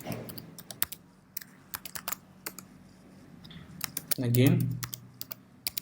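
A computer keyboard clatters with steady bursts of key presses as a password is entered, close and crisp, with a brief spoken word partway through.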